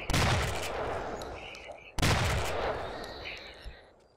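Two loud gunshots ring out about two seconds apart in the zombie survival game Project Zomboid, each a sharp blast trailing off into a long, rumbling echo.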